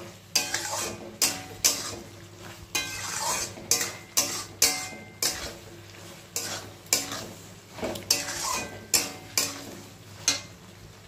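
Pointed gourd sautéed with spices in a pan: a low steady sizzle broken by a regular run of sharp spatula scrapes and clacks against the pan, roughly one every half second, close up and without speech.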